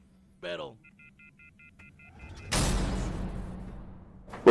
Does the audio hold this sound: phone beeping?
yes